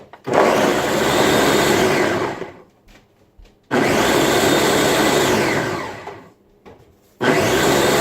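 Countertop blender running on its smoothie setting while blending a protein smoothie, loud whirring bursts of about three seconds each, cutting off and restarting in pulses with brief quiet gaps between them.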